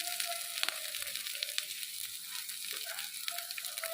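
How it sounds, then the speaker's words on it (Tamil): Onion and green chillies frying in oil for poha upma, a soft continuous sizzle with occasional light stirring clicks, close and fairly quiet, with no voices. "இது நல்லா வதங்கட்டும்"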